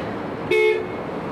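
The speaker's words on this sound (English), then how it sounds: "Let's hear the horn." A 1990 car at a Jaguar club concours gives one steady horn honk, loud and close, lasting about a third of a second.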